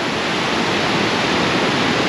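Niagara Falls at night under lights, a steady, dense roar of falling water that fills the whole clip loudly and evenly, with no voices over it.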